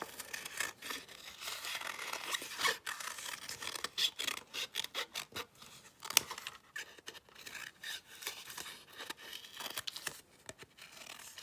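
Scissors cutting a duck tail out of a paper plate, close and quiet, with a run of irregular snips and rasping paper scrapes, no talking.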